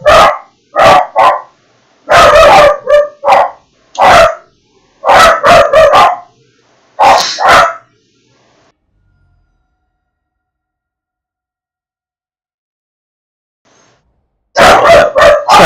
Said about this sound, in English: Alright, my dogs are going nuts for some reason.